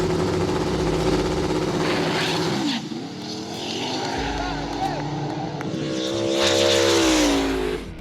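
Two Ford Mustangs, one green and one red, launch in a street drag race, their loud engines roaring and revving up close, with a lull before a second surge of engine noise.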